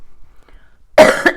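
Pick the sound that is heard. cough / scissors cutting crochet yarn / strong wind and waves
cough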